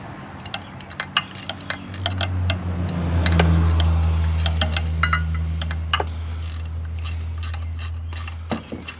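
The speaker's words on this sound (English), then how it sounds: "These ratcheting wrenches are time savers, man" A ratcheting wrench tightens bolts on a Can-Am Commander clutch: rapid, close, sharp clicking in bursts over a low mechanical hum, with no talk.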